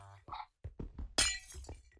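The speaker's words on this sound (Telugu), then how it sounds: "అక్కడక్కడ ఓన్లీ వన్ బ్లాక్ మాత్రం పగలకొడుతున్నాం" Blocks smashed in Minecraft on a multiplayer SMP server, with one loud, crisp glassy shattering burst partway through, surrounded by short muffled knocks and bits of talking.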